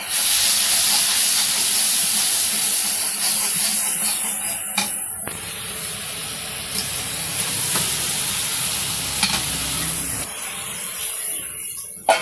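Fish drops into hot oil spiced with turmeric, chilli, salt and cumin in a Bangladeshi village kitchen, setting off a loud, steady, close sizzle and hiss that holds for the whole stretch with a few brief crackles.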